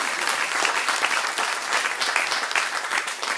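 Audience applause at a French show honouring a guest, dense and steady clapping from many hands filling the room without a break, with no talk over it.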